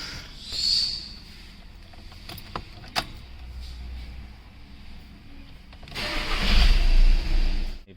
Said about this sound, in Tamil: வண்டியை ஸ்டார்ட் பண்ணிடலாம்.